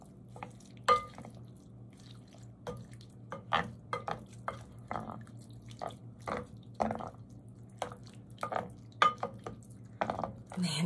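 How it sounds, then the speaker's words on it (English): Pimento cheese being stirred into baked pasta in a dish, heard as scattered soft scrapes, wet squelches and light clinks of a utensil against the dish, close and steady with no talking. "Now I'm going to start stirring in the pimento cheese and all the goodness."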